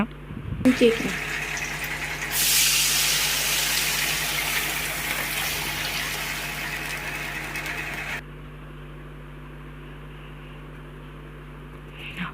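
Tamarind water is poured into a simmering fish curry in a pot, a loud continuous gushing stream for several seconds that cuts off abruptly, leaving a low steady hum, with a few brief bumps at the start.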